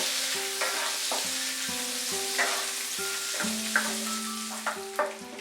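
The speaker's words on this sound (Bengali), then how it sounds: "আঁচটা কিন্তু মিডিয়ামেই রেখে আমি ফ্রাই করছি।" Onion frying over medium heat for chilli soyabean, a steady sizzle with repeated spatula scrapes and soft clinks against the pan, fairly close and continuous with no talking.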